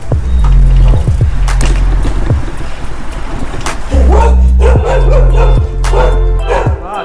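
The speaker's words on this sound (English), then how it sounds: "Puppy." A puppy barks and yips on a street in Tbilisi, Georgia, with several sharp, close barks spread across the stretch over loud low rumbling road or wind noise.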